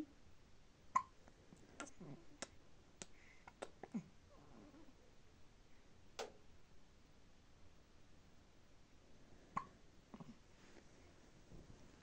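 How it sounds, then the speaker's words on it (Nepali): A newborn baby hiccups in a quiet room: short, soft, sharp hiccups come in an irregular series, several close together, then a few more spaced out, over faint rustling background noise. "हिक्का लाग्यो"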